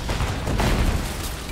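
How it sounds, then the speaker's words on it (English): An explosion in the video game Rise of the Tomb Raider, a loud dense blast with rumbling, crackling debris filling the whole moment without a clear single onset, heard alone. "So many of them got killed in their own stupid explosions"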